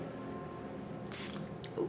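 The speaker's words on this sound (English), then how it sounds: "that's a nice mister" A short hiss of a makeup setting spray mister bursts out once against a low room hum, quiet and close.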